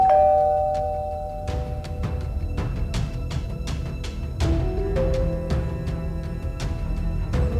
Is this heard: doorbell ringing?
yes